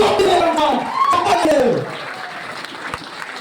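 Loud audience applause at a business team gathering welcoming the team's founder, a dense clatter of clapping that starts under a voice speaking and carries on alone, fading slightly toward the end.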